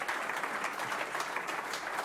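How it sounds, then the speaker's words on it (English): Applause from a tech conference audience welcoming a nervous first-time speaker, a dense, even patter of clapping hands that holds steady and fairly loud. "can we have a big round of applause for him"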